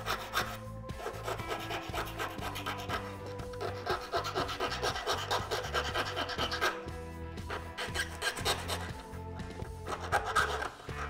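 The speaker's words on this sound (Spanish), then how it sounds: "Es recomendable limar de la manera que lo estoy haciendo, de arriba hacia abajo" A hand file rasps repeatedly across a hammered metal pendant in steady back-and-forth strokes, close and continuous, with a rhythmic scraping texture throughout.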